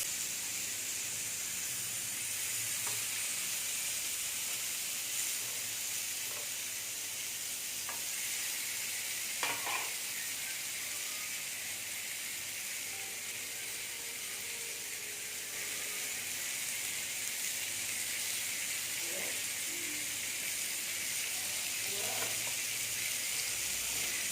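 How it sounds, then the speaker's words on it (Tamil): Chicken sizzles on a grill with a steady, hissing frying noise, broken only by a few faint clicks, constant and close throughout. "சிக்கன் கிரில் நல்லா ஃப்ரை ஆகிடுச்சு"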